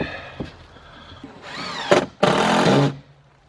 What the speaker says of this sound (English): Put some rivets in it.